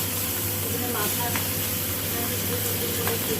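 Hilsa fish head fries in mustard oil with a steady, dense hiss and sizzle, unbroken and fairly loud throughout.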